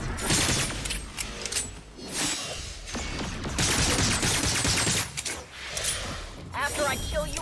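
Rapid bursts of automatic gunfire and shattering impacts in the video game Agents of Mayhem, loud and dense across the clip, mixed with game effects.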